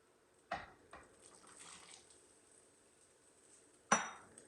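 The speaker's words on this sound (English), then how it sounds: "I'm going to add my carrots and my potatoes." Chopped carrots and potatoes dropped into a pot of New England clam chowder, heard as a few scattered clunks and a final sharp clatter with quiet kitchen rustle between.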